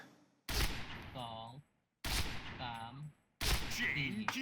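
Three loud bursts of rifle gunfire ring out in the shooter game Point Blank, separated by short pauses. A voice runs under the shots.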